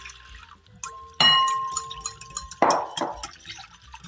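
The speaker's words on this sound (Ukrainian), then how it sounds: "виливаю воду" Water poured from a container into a mixing bowl holding beaten egg, salt and oil for dumpling dough, a short splashing pour with ringing drips and a second burst, close and alone.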